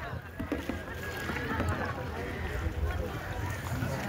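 A rowing boat moves across Phewa Lake in Pokhara, with soft water sloshing and paddle splashes beneath wind buffeting the microphone and occasional voices nearby.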